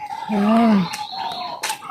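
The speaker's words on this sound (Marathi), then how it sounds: "पक्ष्यांचाच आवाज आहे" Birds call around an old Shiva temple: several short, bright chirps and cries ring out at close range, with a rooster-like call in the mix and a brief voiced sound near the start.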